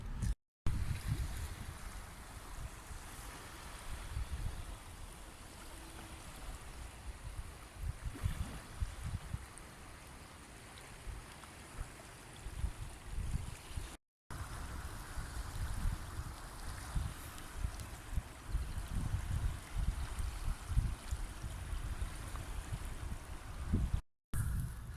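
Tidal water of the River Severn at Horseshoe Bend flowing in with a high tide, a steady, rushing wash mixed with wind noise, continuous and fairly distant throughout.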